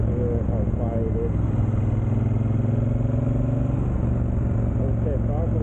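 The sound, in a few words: Triumph Bonneville Speedmaster motorcycle running with Dr. Jekill & Mr. Hyde exhaust fully closed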